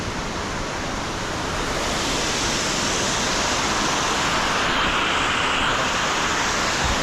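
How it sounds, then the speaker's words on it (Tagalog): Steady broadband rush of flowing water from a mountain stream on the slopes of Mt. Isarog near Panicuason hot spring, continuous and fairly loud, filling the whole stretch with no voices. "Natural na ingay ng tubig ang maririnig."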